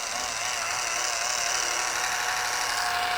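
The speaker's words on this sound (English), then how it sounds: "We're really just focused on spreading the polish out right now." A Liquid Elements polisher spreading polish, running at a steady high-pitched whir with a faint rapid buzzing pulse, close and continuous with no talking.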